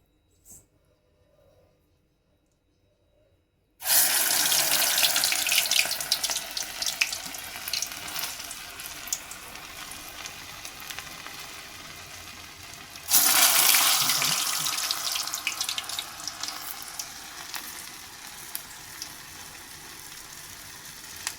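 Urad dal vadai batter dropped into hot oil, bursting into a loud, dense sizzle after a quiet start, easing slightly, then surging again as more batter goes in, with a continuous crackling fry throughout.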